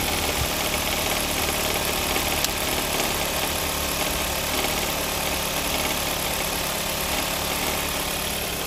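The 2.0-liter four-cylinder engine of a 2005 Ford Focus ZX4 with automatic transmission idles under an open hood, a steady, close mechanical hum and rattle holding even throughout with no speech.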